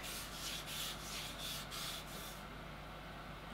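Rapid, rhythmic scratchy rubbing strokes of a crystal hair remover on skin repeat for a couple of seconds, close and soft, then stop, leaving a faint hiss.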